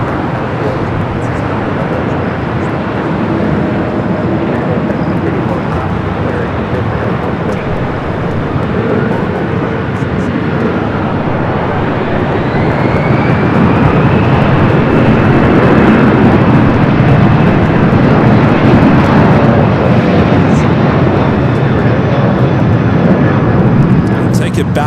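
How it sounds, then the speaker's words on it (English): A Japan Airlines Airbus A350-1000 arriving from Tokyo Haneda onto LAX's north side makes a continuous jet rumble that swells about halfway through, with a rising engine whine that stays loud to the end. "Japan Airlines Flight 16 coming up from Tokyo Haneda, A350-1000 up next there on the north side"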